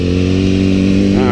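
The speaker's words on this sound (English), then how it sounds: "I'm doing a slow wheelies." A motorcycle engine holds a loud, close, steady droning rev during a slow clutch-up wheelie, rich in harmonics, with the pitch wavering slightly near the end of the brief burst.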